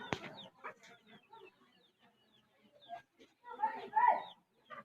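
A mother hen clucks near her chick in a backyard with pigeons about: scattered soft clucks and chirps, growing louder toward the end, with quiet gaps between them.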